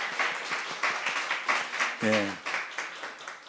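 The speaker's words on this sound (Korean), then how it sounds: "우리 박수로." Church congregation clapping in applause to send off a young man entering military service, a short burst of hands mixed with talk from the pastor and some voices.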